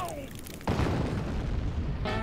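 Dolls bursting into flames in the video game Voodoo Vince: a sudden loud whoosh of fire after a short lead-in of game sounds, then a sustained roaring crackle, with speech present in the clip.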